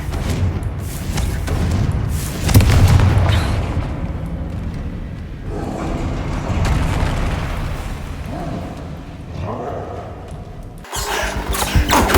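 Heavy booming explosions from the Confringo fire spell in Hogwarts Legacy, several loud blasts and rumbling bursts spread across the stretch with game effects between them, ending in a sharp cut and fresh burst.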